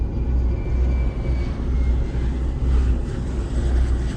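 Yak-40 jet engines in a flight simulator run as a steady, loud low roar with a faint high whine, holding constant throughout with no talking.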